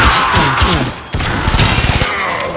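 Rapid bursts of gunfire from the video game Warframe, loud and close, fired in dense volleys with a brief cutoff partway through, then resuming in quick repeated shots.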